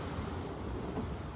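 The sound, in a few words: wind on a cruise ship deck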